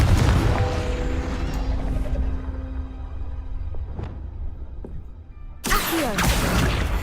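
Confringo explosion spell cast in the video game Hogwarts Legacy: a loud booming blast over a steady game soundtrack, with a couple of sharp hits midway and a fresh burst of noisy impact near the end.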